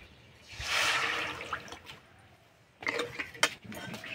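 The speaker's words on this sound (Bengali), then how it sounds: "এখানে আমি যে তালের মাড়ি আর জলের মিশ্রণটা করে রেখেছি সেটা কড়াইয়ে দিয়ে দেব।" A mixture of ripe palm pulp and water pours into a wok with a brief liquid gush, followed by quieter splashing and clinking of utensils, close and fairly faint.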